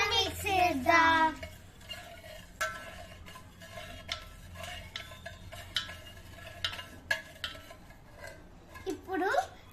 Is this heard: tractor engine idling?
no